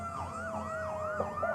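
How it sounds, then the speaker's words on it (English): Wailing emergency vehicle sirens, ambulance-type from the Island Island First Aid Squad, sweep up and down in steady repeating cycles during the 1997 St. Patrick's Day parade in Woodbridge, loud and continuous over a low street rumble. "The sirens are back."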